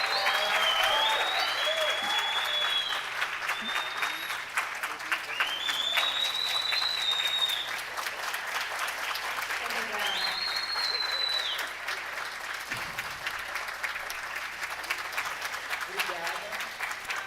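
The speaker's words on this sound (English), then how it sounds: "A round of applause for Ayo." Sustained, loud audience applause at the opening of a São Paulo sustainability event, continuing at full strength before thinning slightly toward the end, with some cheers and voices mixed in.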